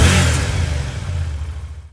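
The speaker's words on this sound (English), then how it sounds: "So let's do a sound test on the current exhaust." A Yamaha TDM 900 motorcycle on its stock exhaust revs loudly and close, a single sustained engine roar that fades out after about two seconds.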